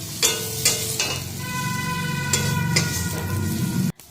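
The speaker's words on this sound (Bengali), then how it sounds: "এখানে তেজপাতা শুকনো লঙ্কা জিরে ধরুন দিয়ে দিয়েছি" Bay leaf, dried chilli and cumin sizzle in hot oil in a pan, a steady close crackling fry punctuated by a few sharp clatters of utensils, with no talking.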